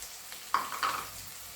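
Onion and carrots frying in a pan for hotel-style poha, heard as brief sizzling bursts of stirring with a quieter hiss in between, with no talking.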